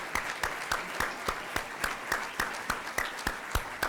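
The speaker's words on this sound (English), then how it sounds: "let's give them a nice warm round of applause" Steady applause from an audience at a speech honoring 1956 and 1958 Mount Pleasant cross-country teams, a dense patter of claps continuing evenly throughout, moderately loud and fairly close.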